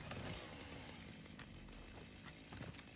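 A chainsaw in the video game Satisfactory runs at a steady, continuous drone at moderate level, with a few brief higher-pitched bursts and no talking.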